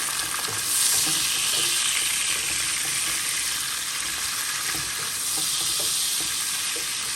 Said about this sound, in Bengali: আমি চিংড়ি মাছ অ্যাড করে দিলাম।